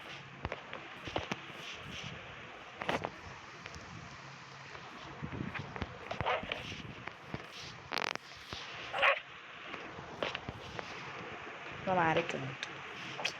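A dog in a village barks in short, scattered bursts with a few yips, close by, amid people talking and some wind.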